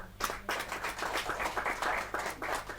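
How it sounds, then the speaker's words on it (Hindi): Brisk applause from a group at a Hindi poetry gathering, steady and fairly loud, with many hands clapping at once. "जोरदार तालियां"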